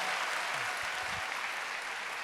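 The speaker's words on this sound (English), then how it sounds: "go ahead and clap for Josh" Crowd applause for Pennsylvania Governor Josh Shapiro at a Trump rally in Pennsylvania, a steady, dense wash of clapping filling the whole moment with faint voices beneath.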